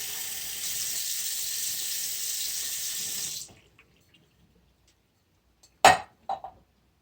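Water running from a bathroom tap into a sink while rinsing the mouth, a steady rush for about three seconds that stops, followed by a couple of short wet clinks or splashes.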